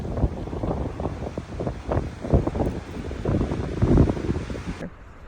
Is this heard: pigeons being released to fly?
no